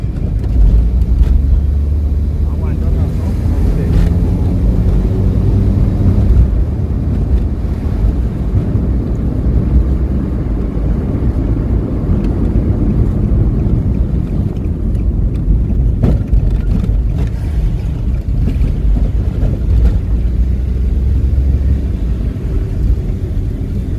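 A car driving along a St Thomas road after its transmission was repaired, making a continuous low road and engine rumble mixed with buffeting wind noise for the whole stretch, with no voices.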